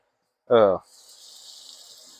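Water pours into a cooking pot left over from cooking sausage for duck gravy, making a soft, steady splashing hiss. It follows a brief spoken sound and is fairly quiet.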